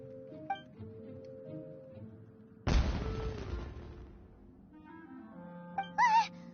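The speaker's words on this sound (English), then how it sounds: "Was that an explosion? It sounded like fireworks." A single loud firework-like explosion bursts in the Genshin Impact video game, a sudden blast with a rolling tail heard among soft game music and effects, followed by short chiming tones.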